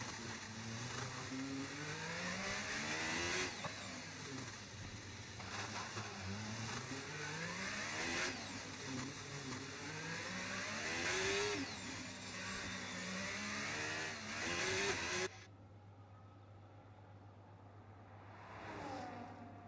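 Race car engine in a sim racing game at Monaco, loud and close, revving up and down through gear changes and corners with rising and falling whines for about fifteen seconds, then cutting to a much quieter, duller engine tone at the end.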